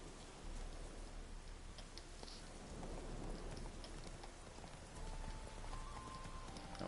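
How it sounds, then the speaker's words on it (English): Steady rain pours down with thunder rumbling beneath it, a dense, continuous hiss that swells slightly at times, with no voices. "Looks like rain."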